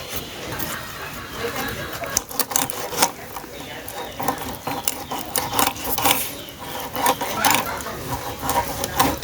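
Tangra fish being cut with a knife, probably on a wooden board, giving repeated scraping and chopping strokes at close range in an uneven rhythm, with faint background noise.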